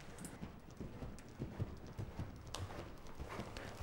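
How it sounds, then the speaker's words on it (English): A dressage horse canters in counter canter, its hooves striking the ground in a steady, soft three-beat rhythm, fairly distant and muffled, with no voices. "it is an advantage to ride big serpentines in counter canter"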